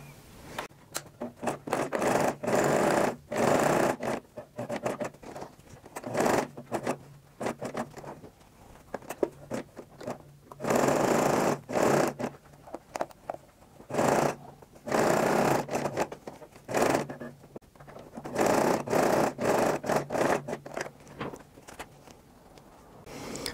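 Sewing machine stitching fabric for a handbag, running in repeated bursts of rapid clatter separated by short pauses, close and alone without talk.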